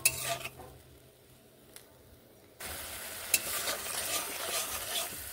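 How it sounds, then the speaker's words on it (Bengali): Water poured into a pan of sizzling ginger, cumin, chili and tomato spice paste for a vegetarian broccoli dish; a faint stirring sizzle suddenly swells into a loud, steady hiss that holds to the end. "একটুখানি জল দিয়ে নিচ্ছি।"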